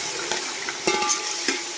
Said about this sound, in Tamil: வாங்க வெங்காயத்தை போட்டு தாளிக்கலாம்.